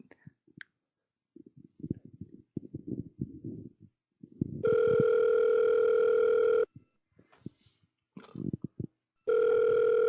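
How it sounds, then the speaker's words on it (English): Telephone ringing for an incoming call, two long loud steady electronic rings separated by a pause, alternating with stretches of a person talking. "Oh, we're getting a last minute phone call here."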